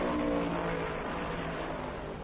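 Stock race cars roar past at the 1978 Southern 500, a sustained engine drone that fades slightly as the field moves away along the main straightaway.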